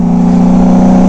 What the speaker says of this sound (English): you can definitely tell it's the Goldwing engine, but with that exhaust, man, that's loud